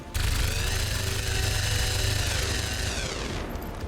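Sustained automatic gunfire from the XCOM 2 video game, a dense, loud continuous burst of rapid shots that holds steady for several seconds before tapering near the end.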